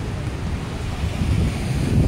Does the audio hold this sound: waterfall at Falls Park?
yes